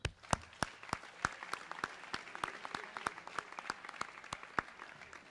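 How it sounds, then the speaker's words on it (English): Scattered applause from the crowd at a 2007 senior awards night, individual claps distinct and uneven, a modest group clapping at close to middling distance with no voices over it. "You really all deserve a round of applause."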